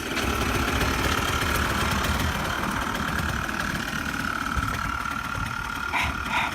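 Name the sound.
ATV engine idling after being started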